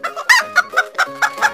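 Hens cluck in quick, rhythmic bursts, about eight sharp close calls in steady succession, loud and clear with no talk.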